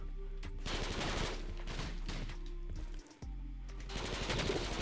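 Rapid automatic gunfire from a fast-firing gun in the Jailbird video game rattles in repeated bursts over a steady game background, with one short pause midway, loud and close.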